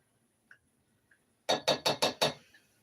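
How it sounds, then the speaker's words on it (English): A spatula scrapes and knocks the last teriyaki sauce out of a container in a home kitchen: five quick, crisp clinking strikes in a steady rhythm, close and fairly loud, after two faint ticks. "Let me get my spatula here and scrape out the rest of this teriyaki"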